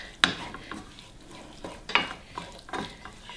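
Cooked beans and caramelized onions being stirred together in a pan, with a soft, low scraping and shuffling broken by a couple of sharper utensil clinks against the pot.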